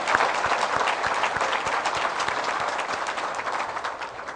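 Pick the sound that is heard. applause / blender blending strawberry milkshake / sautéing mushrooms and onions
applause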